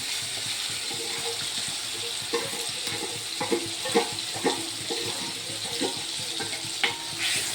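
Turmeric, red chilli powder and Maggi masala stirred through a sizzling pan for dhaba-style palak paneer, with steady frying hiss and a run of scraping spoon strokes clustered in the second half.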